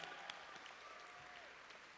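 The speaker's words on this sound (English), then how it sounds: "Please give BRAC Mariachis a big round of applause." Quiet applause from an audience at a school sports hall of fame ceremony, honoring the Brackenridge High School Mariachis; steady, soft clapping across the room with a faint voice or tone drifting underneath.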